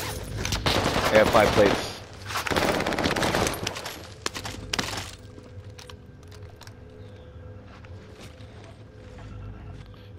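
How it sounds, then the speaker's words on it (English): Gunfire in Call of Duty Warzone, with dense bursts of automatic fire up close for the first few seconds, then sparser distant shots and clicks as a player speaks briefly. "Getting shot at from blue"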